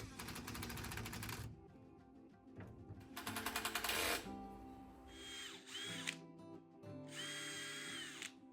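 A power drill drives screws into a wooden garden climbing support in several close bursts, rising and falling in pitch with pauses and quieter whirring between.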